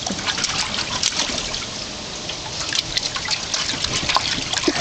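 A dog splashes water in a bathtub close by in uneven bursts, a continuous wet sloshing with scattered louder slaps.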